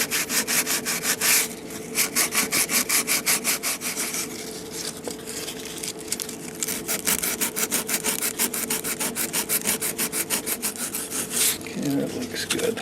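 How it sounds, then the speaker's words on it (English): Hand sanding of hardened JB Wood Weld filler on the back of a wooden cuckoo clock, close rhythmic back-and-forth scraping strokes repeating steadily with brief pauses. "We're going to sand all this off in the back now, get it nice and smooth."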